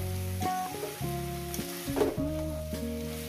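Poppy seed paste frying with pumpkin greens stalks and potatoes in a pan, a steady soft sizzle with occasional stirring scrapes, heard close and alone, partly under a tonal musical background.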